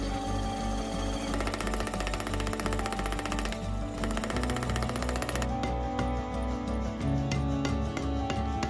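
A power hammer forges a square steel bar laid flat, pounding in rapid, rhythmic mechanical blows that run continuously with brief pauses and shifts in tempo, loud and close with metallic ringing.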